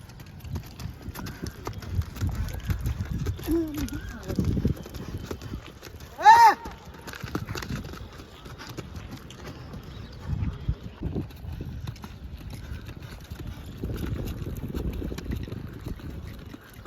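A mare's hooves clip-clop at a walk, a loose, irregular patter running under people talking, with one short whinny-like cry in the middle.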